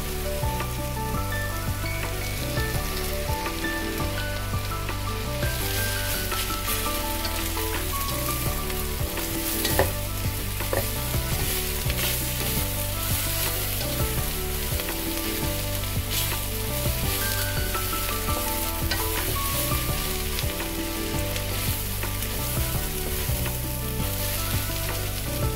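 Egg and drumstick leaves sizzle and crackle steadily in a hot pan during stir-frying, a constant close frying hiss with occasional stirring scrapes and no voices.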